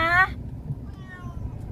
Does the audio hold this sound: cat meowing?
yes